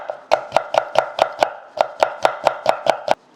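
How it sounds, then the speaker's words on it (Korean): A knife thinly slices vegetables into strips on a cutting board, with about sixteen crisp, evenly spaced chops in a quick steady rhythm, close and clear, with no talk. "이렇게 해서 그냥 얇게 채를 썰어주세요."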